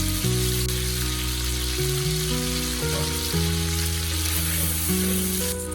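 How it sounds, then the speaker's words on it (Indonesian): A red spice paste of shallot, garlic and red chili sautés in hot oil with a loud, continuous sizzle, and a low steady tone hums beneath it the whole time. "Ini bumbu dasar merah ini terdiri dari bawang merah, bawang putih, cabai merah ya teman-teman, dan ditumis kembali biar wangi"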